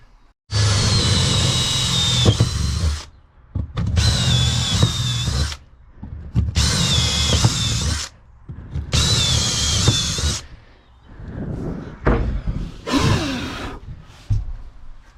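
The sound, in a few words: power drill drilling through van floor for countersunk bolts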